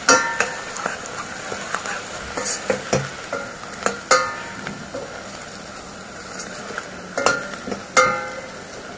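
Daivadnya masala frying in oil in a pan for mutton, a continuous close sizzle broken by repeated sharp spoon scrapes and stirring knocks at an uneven rhythm.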